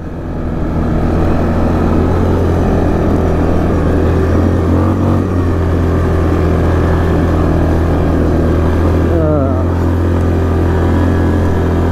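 A 2006 Yamaha Kodiak 450 ATV engine held at full throttle while riding, a loud, steady, droning hum with constant pitch and wind buffeting throughout, no talking.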